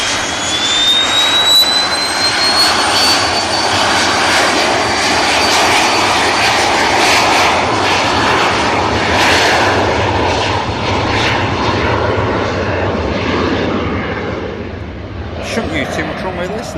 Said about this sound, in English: Shouldn't use too much runway this, and there you go, rotating already.